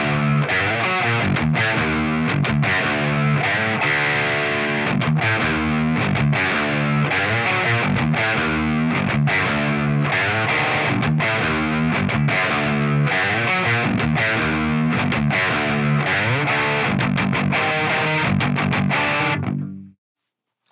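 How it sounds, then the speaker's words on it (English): 30-scale baritone electric guitar through a Wampler Plexi distortion pedal, driving loud, dense, rhythmic chugging riffs that ring steadily for about twenty seconds before stopping abruptly. "when I click that one off, I'm going to click on a Wampler Plexi into the mix there"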